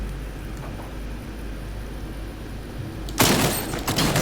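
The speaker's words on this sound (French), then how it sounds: "Mais c'est quoi ça petit sniper à silencieux?" A suppressed sniper rifle fires in Fortnite, one sudden loud burst near the end of a stretch of steady game ambience.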